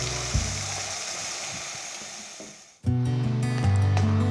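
Tomato puree hits a pan of sautéing onions and curry leaves for a Tamil chicken gravy, raising a sudden loud, steady sizzle after a quieter stretch of frying hiss.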